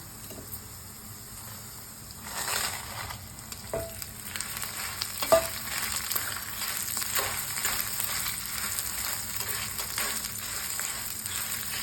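Dried red chillies frying in a pan for idli podi, a steady close sizzle and crackle with a few sharp pops and light stirring scrapes, growing busier after the first couple of seconds.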